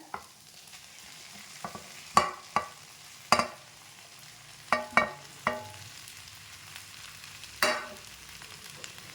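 Mashed potato being stirred into carrots and beans in a pan, with a spoon or spatula scraping the pan in short, irregular strokes over a faint sizzle. There is no talking.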